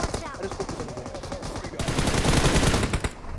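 Rapid automatic gunfire from the mobile battle royale game BGMI, loud dense bursts of shots continuing without pause.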